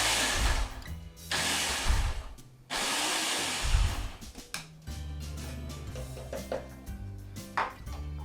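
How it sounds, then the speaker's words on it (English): Kitchen blender whirring in loud bursts as it crushes digestive biscuits into crumbs for a Christmas dessert, several pulses separated by brief pauses, then quieter clinks and handling sounds. "Now these I am going to put in my blender and just break them up to look like sand."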